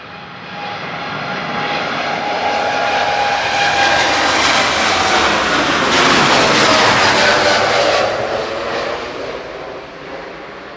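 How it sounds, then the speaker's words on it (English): A loud, steady jet roar fills the air as an airliner takes off from Manchester Airport for Larnaca, holding strong throughout before easing slightly at the end, with no voices present. "Here goes the 2E to Larnaca, flight 2180."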